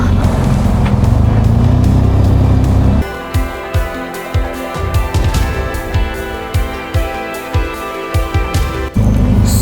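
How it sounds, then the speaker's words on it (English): Heavy peak-hour road traffic in a city, passed on a long ride from Singapore toward Laos, with a loud steady rumble of engines and wind up close, then a break into choppier, uneven vehicle noise with bumps and thuds. "Super heavy traffic right now."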